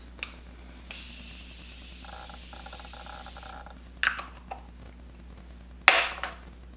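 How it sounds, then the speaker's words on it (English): Continuous setting mist from a Morphe spray bottle misted over a made-up face: a broad hiss runs for about three seconds, followed by a couple of sharp clicks and a brief final spritz. "Now I'm just going to set my face using the Morphe Continuous Setting Mist."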